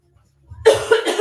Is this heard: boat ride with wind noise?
no